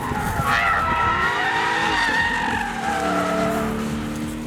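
An Audi RS6 Avant wagon driven hard on a race track, its tires squealing loudly and continuously over the strained roar of the engine, with no talking.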